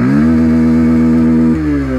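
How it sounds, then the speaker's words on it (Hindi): Bajaj Pulsar 125 (2023) single-cylinder engine held at high revs, a loud close steady whine with a sharp drop in pitch near the end as the throttle eases, no voices. "काफ़ी रिफाइंड इंजन है, देखो मैं कहाँ तक अभी रेव करूँगा।"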